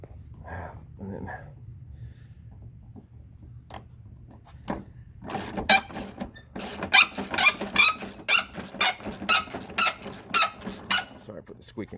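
Rhythmic squeaking of plastic and metal parts while a headlight assembly is worked loose on a 2002–2005 Dodge Ram 2500, loud bursts repeating steadily in the second half after quieter handling noises.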